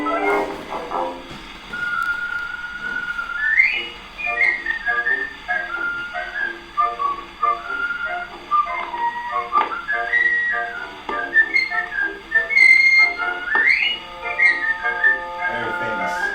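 Gramophone record of a band playing a tune, with band members whistling alongside a piccolo over brass accompaniment, a steady tune running throughout.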